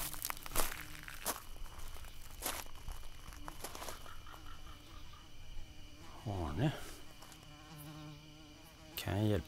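Flies buzzing steadily throughout, with a sustained insect drone and a few louder passes close by, mid-level and without talk.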